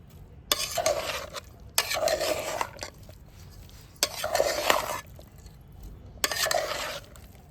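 Tomato, capsicum and onion stirred together in a pan over a clay wood-fired stove, four distinct bursts of spoon scraping and rustling with short pauses between, under a faint sizzle, no voices.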